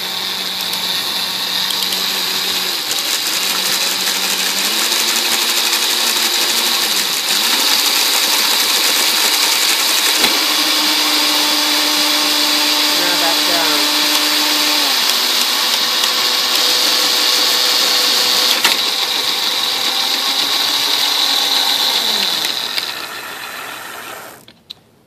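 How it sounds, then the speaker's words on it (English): A homemade two-speed electric motor scooter runs steadily close by, a continuous mechanical whine with rattling gear-like clatter that shifts pitch up and down as the speeds change, then cuts off near the end. "this is my homemade electric motor scooter with two speeds"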